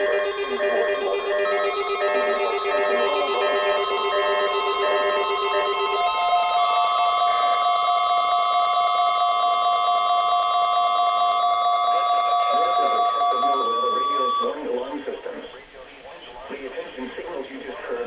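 An Emergency Alert System warning tone blares as a loud, sustained electronic two-tone alarm for about fourteen seconds, then cuts off into a broadcast voice.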